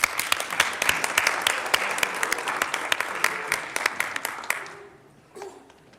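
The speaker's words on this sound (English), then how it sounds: "We have one more round of applause for Dakota Yates." A township board of supervisors meeting crowd claps in sustained applause that tapers off and fades out after about five seconds, leaving quiet room tone.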